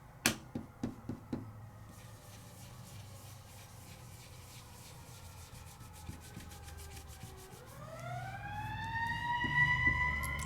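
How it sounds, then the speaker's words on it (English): Emergency vehicle sirens on a main street in Canyon Country, California, rising wailing tones that swell in from a distance and grow louder toward the end, after a run of sharp knocking and rubbing sounds nearby. "So we are on a main street here in Canyon Country, California. So sirens are the norm for us."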